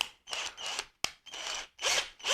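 A cordless screwdriver drill fitted with an SDS bit bores a hole through a clay flowerpot, heard as a few separate whirring runs with short pauses between them, close and loud, with no talk.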